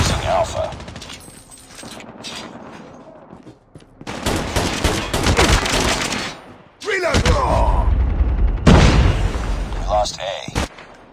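Gunfire bursts in a tactical online shooter match, loud and dense, with rapid volleys clustering in the middle and latter part alongside in-game effects and talk.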